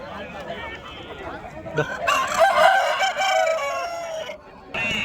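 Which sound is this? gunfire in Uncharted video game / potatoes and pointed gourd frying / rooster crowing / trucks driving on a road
rooster crowing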